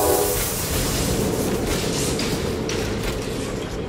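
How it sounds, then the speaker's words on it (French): Factory machines in the video game Poppy Playtime make a loud, constant mechanical roar with rattling, clickety-clack texture, filling the whole stretch without pause. "Elles font trop de bruit les machines."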